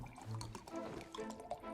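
Liquid poured back into a glass in the card game Card Shark, a short wet trickling and sloshing that runs steadily for under two seconds at moderate level, with no talk over it.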